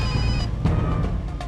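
A telephone ringing loudly nearby in a tense indoor scene, a bright electronic tone with repeated pulses and a low hum underneath, no one speaking.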